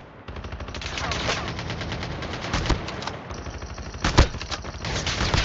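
A video game gun with heavy recoil fires in long, rapid automatic bursts, loud and continuous with a few louder shots standing out, and a voice speaks briefly under the gunfire.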